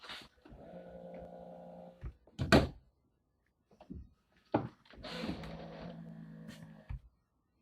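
A 2024 BMW X7 door shuts with a solid thunk, followed by a second firm close a couple of seconds later. Quieter tonal background sounds fill the gaps between the closes.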